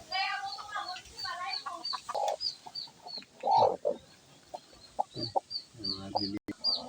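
Chickens cluck near a nest holding chicks, with a mix of low clucks and high chick peeps in an irregular series, close at hand, alongside some human voice sounds.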